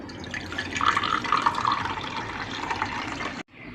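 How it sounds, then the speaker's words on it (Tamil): Pani water is poured into stuffed puris for pani puri, a steady trickling and splashing of liquid that runs for about three seconds before stopping abruptly, fairly close and quiet. "இப்போ நம்ம பானி ஊற்றிக்கலாம்"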